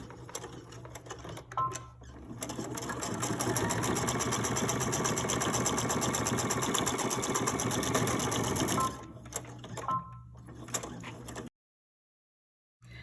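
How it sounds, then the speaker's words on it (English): Sewing machine back stitching the hem and ribbon of a fabric face mask, a steady close whir running about seven seconds with short bursts of stitching before and after, then silence. "back stitch your hem, and then go over your ribbon and back stitch secure the ribbon again."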